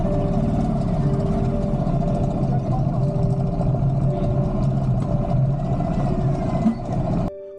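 A motorbike engine hums steadily throughout a ride on a Tehri Garhwal mountain road in Uttarakhand, a sustained mid-pitched drone with a few bursts of throttle, ending abruptly near the close.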